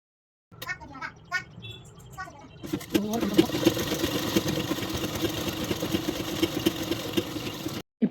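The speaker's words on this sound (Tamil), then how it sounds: "இப்போ ஃபுல்லாக மடக்கிட்டு இப்போ நான் ஓரத்தையல் போட போகிறேன்" A sewing machine stitches the folded edge seam of a blouse: first a few short bursts with pauses, then a close, steady mechanical whirr that runs without a break before stopping abruptly.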